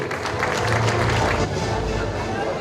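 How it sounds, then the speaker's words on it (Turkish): A hall audience at a Turkish magazine awards ceremony applauds an honoree, dense continuous clapping with crowd murmur, broad and steady rather than close, filling the whole stretch. "Alkışlar."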